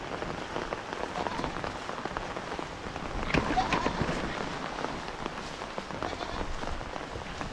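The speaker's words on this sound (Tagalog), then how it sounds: "Maulan, magkaulan." Rain falls steadily on surfaces outdoors near a goat farm, a dense, constant patter that swells briefly midway, with no clear voices.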